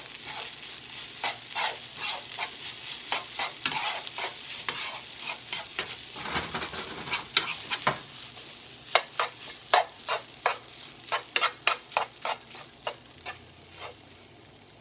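Fried rice being stirred and tossed in a hot sizzling pan, with a steady frying hiss under a series of sharp scraping utensil strokes that quicken toward the end.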